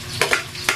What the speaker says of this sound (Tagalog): ilagay na po natin yung ginayat na bawang